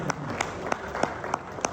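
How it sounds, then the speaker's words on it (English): Audience applause at a panel event on female lawyers in national security, a dense wash of clapping with a few louder individual claps standing out in a loose rhythm. "Please, another big round of applause."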